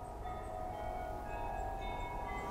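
Church bells ring on and on in the distance, faint sustained tones hanging over a low background rumble.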